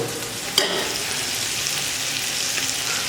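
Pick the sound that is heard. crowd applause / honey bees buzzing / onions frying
onions frying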